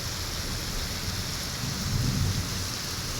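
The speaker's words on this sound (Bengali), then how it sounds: "প্রচুর পরিমাণে বৃষ্টি হয়েছে" Heavy rain pours in a steady dense hiss while low thunder rumbles underneath, swelling briefly before easing back; no voices.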